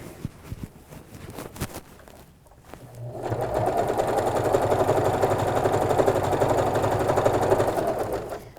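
Sewing machine stitching fabric around a corner on a sleepover bag: a few handling clicks, then a loud, continuous close-up motor whir with rapid needle chatter running steadily to the end.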